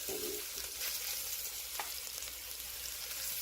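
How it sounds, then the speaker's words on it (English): Floured meat on the bone browns in a hot pan, giving a steady close frying hiss with a couple of faint clicks from the pan, and no voices. "You're just browning the outside."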